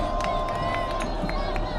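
Crowd chanting at a high school football game, a rhythmic, repeated chant from the stands with regular pulsing beats, heard at a distance under a continuous babble of the crowd.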